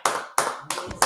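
Four crisp hand claps ring out close and loud in an even rhythm, each a sharp slap with a short decay, from a single person rather than a crowd.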